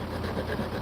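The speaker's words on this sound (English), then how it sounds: "the washing machine going wild in the background" Washing machine running in the background indoors, a steady mechanical churning hum with faint rhythmic variation, continuous and moderately loud with no voices.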